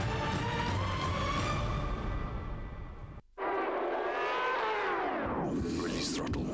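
A race car at a 2011 Diamond Route 200 event accelerates with a loud, close engine roar. The engine cuts out briefly partway through for a gear change, then returns with a strong note that sweeps downward in pitch.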